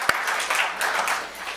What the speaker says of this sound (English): You can't clap too much.